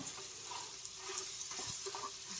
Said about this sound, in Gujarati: અને આ ચટણીને આપણે સાતળી લેવાની છે.